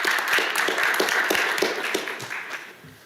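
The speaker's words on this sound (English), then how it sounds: "Let's give her a round of applause" Applause from the audience at a Little Rock city Board of Directors meeting, a steady patter of many hands clapping together for about three seconds, fairly close and then tapering off slightly at the end.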